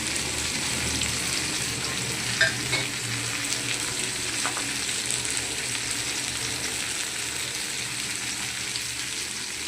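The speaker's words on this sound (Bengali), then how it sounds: "সবজিটা আমার ভাজা হয়ে গেছে, এবার আমি মশলাগুলোকে দিয়ে দিচ্ছি।" Spices and vegetables fry together in a pan, giving an even, dense crackle and hiss throughout, with a couple of faint utensil clicks and no speech.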